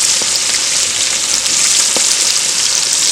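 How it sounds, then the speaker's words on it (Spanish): Pork rinds (chicharrón) deep-frying outdoors in the countryside, a loud, steady, dense sizzle and bubbling of hot fat that runs without a break from start to finish, with no voices. "Ya tiene aproximadamente media hora friendo"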